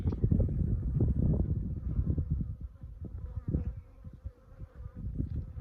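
Honeybees buzz in a dense, continuous drone during a removal from under a shed floor in Arizona, close to the microphone and fluctuating as the swarm stirs, with no voices.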